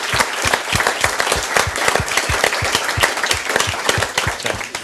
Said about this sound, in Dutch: Ik wil hier een heel goed applaus voor alle 3 deze leerlingkoks.